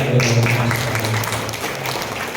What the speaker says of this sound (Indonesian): Tadi ada tepuk tangan, kita kasih tepuk tangan juga.